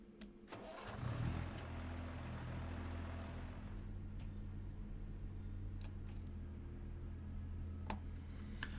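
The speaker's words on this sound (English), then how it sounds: "I don't really like the engine noises there. I don't think they're very good, the start and stop noises." Class 142 Pacer diesel train engine starting in Train Sim World 4, a cranking burst that settles into a steady low rumbling idle with a droning hum and occasional faint clicks.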